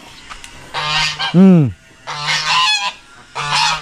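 A crossbreed domestic goose or duck gives loud, close honks in three bursts, with one drawn-out falling call in the middle, and a brief murmur from a person.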